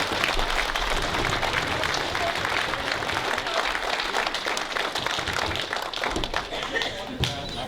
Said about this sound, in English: So how about a great big round of applause for all of our track officials.